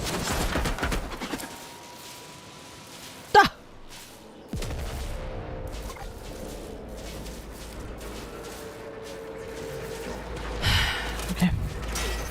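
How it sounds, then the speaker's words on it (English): Bursts of enemy gunfire in a video game, sharp isolated shots and a few short volleys scattered through a stretch of game sound, with a voice talking faintly at times. "Who the hell is shooting at me?"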